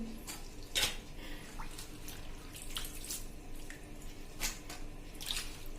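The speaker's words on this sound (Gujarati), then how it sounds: "હવે એને આપણે આ રીતે નિતારી લેવાની પાણીમાંથી" Water splashes and drips as raw mango slices are shaken and drained, a few sharper splashes among quieter trickling, close by.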